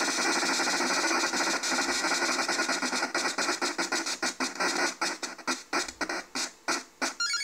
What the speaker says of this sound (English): Spin the wheel.